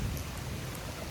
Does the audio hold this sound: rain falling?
yes